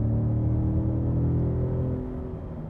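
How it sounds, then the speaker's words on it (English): Engine of a 2017 Ford Raptor F-150 heard from inside the cab as it accelerates, a deep, steady rumbling roar with humming harmonics that swells and then eases slightly, with no voices. "you can start to hear the turbos spool up and the engine start to roar"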